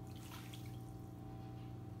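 Water or broth poured into a cooking pot for fonio, a soft steady splashing trickle that stays faint and continuous throughout.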